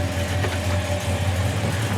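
A 1969 Chevrolet Chevelle idles nearby, a low, even engine burble holding steady throughout with no talking.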